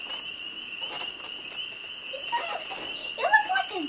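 Small frogs call outdoors at a grandparents' house with a steady high-pitched peeping drone, fairly loud and continuous; voices talk briefly near the end.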